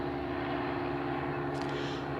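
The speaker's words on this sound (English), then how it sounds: "There's planes." An airplane passes overhead at an outdoor grassy spot, a steady broadband drone with low engine hum held throughout, moderately loud and continuous, with no talking.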